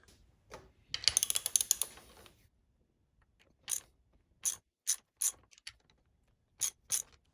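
A ratchet loosens 10mm triple clamp bolts on a WR250R motorcycle: a quick burst of close clicking, then several short separate ratchet clicks with pauses between.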